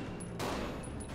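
Rapid gunfire from the video game Resident Evil 0, a dense burst of shots sustained over about a second, loud and unbroken with no talk over it.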